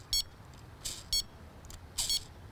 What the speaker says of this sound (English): you're only getting one beep for every sort of few spins